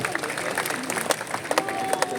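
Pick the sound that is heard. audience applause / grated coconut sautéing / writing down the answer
audience applause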